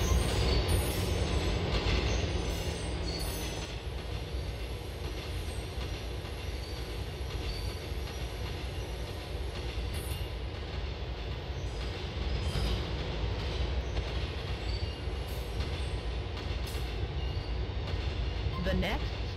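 Subway train in GTA IV running steadily with continuous rumbling wheels, rail noise and occasional squeals, loud and close throughout, with station announcements spoken over it.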